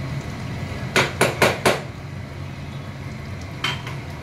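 A spoon knocks against a pot four times in quick succession, then once more after a pause, while dry-roasted masala is stirred into a chicken curry over a faint low sizzle.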